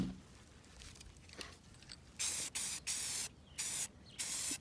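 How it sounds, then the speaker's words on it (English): Spray paint hisses onto a picture frame in five loud, sharp bursts of roughly half a second each, separated by brief pauses, after a quieter stretch of faint handling. "when I used cheaper spray paint, so definitely worth doing the stuff that comes out faster"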